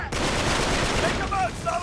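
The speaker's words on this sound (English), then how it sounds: "Is that Sully shooting?" Sully fires at enemies in Uncharted 3 in a short, dense burst of rapid gunfire. A faint voice creeps in near the end.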